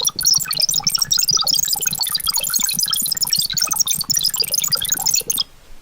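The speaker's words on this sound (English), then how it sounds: "a sinus function with a random number generator as well, making this chirpy, high-pitched sound that sounds like this" A synthesized sine tone driven by a random number generator produces a dense, chirpy, high-pitched burble of rapid random blips, steady and loud for several seconds before cutting off abruptly.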